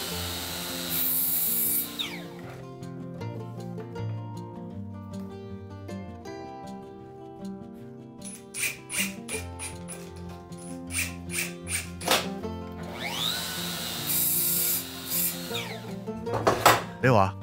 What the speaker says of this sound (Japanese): ではすのこ材を切っていきます。